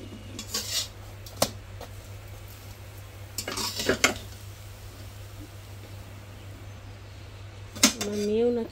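Washed dishes and pots are set away in a home kitchen. A few scattered metallic clinks and clatters sound close by over a low steady hum, and a voice is heard briefly near the end.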